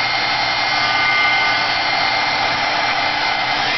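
Steady whirring blast of a heat tool drying oil on an oil pastel ombre background, continuous and close at even loudness throughout, with no talking.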